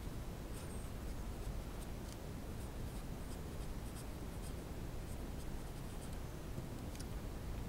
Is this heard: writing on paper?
yes